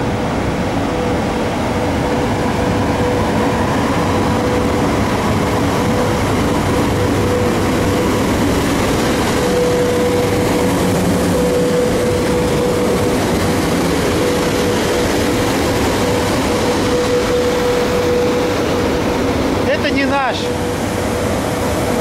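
A continuous low rumble of a train at a station, with a faint steady tone and brief squeals near the end, and people talking throughout.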